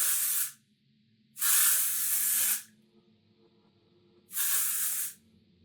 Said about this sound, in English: I'm gonna add a little bit of this Amika Undone Texture Spray